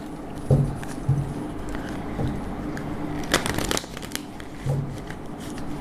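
Tarot deck being shuffled and handled, with soft scattered card flicks and a brief denser riffle midway over a steady low background hum, close and moderately quiet.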